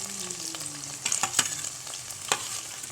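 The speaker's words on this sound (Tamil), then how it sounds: "நம்ம வெங்காயமும் அந்த பச்சை மிளகாயமும் போடணும்." Onions and green chillies fry in oil for South Indian pepper chicken, a close, bright sizzle with a few sharp stirring scrapes and clinks over the steady hiss.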